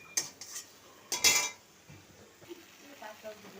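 A utensil scrapes and clanks against a pan while boiled mango is mashed for chutney, giving a few sharp metallic knocks and scraping strokes that are close and moderately loud.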